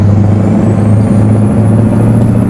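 A truck with a custom exhaust in Euro Truck Simulator 2 rumbles loudly and steadily, a deep droning engine roar close up with no voices.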